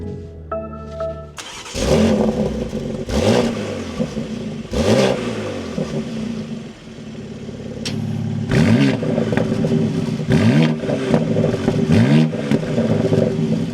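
A 2025 BMW X4 M Competition engine cranks and fires up, then settles into idle and is blipped through a series of sharp revs, close and loud with brief pauses between.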